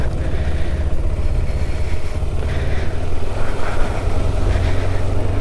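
A scooter on a test ride around Bogota, Colombia, its engine droning steadily and loudly close to the rider, with a constant low rumble and wind noise throughout.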